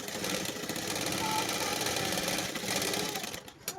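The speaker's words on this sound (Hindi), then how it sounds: "पहले इसको मैं सिल लेती हूँ इस" A sewing machine runs steadily while stitching pant fabric, a close, continuous mechanical whir with a fine rapid rhythm that eases off near the end.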